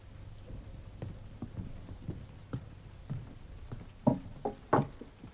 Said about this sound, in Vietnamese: nghe tiếng mưa rơi lách tách trên lá trúc